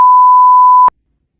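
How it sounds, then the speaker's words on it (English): A single steady electronic beep tone from a hearing test sounds loudly for just under a second, then cuts off abruptly into silence. "hit that button every time you heard a beep"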